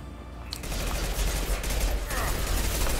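Sustained gunfire from the video game Mass Effect 2, a dense close barrage of rapid shots that runs almost continuously, with a sharp burst near the start and more rattling fire later.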